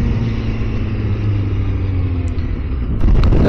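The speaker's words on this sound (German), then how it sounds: "wir fahren jetzt einmal irgendwo Richtung Zentrum" A car driving toward the city centre, with a steady, loud engine and road rumble heard from inside the cabin throughout, the noise stepping up slightly near the end.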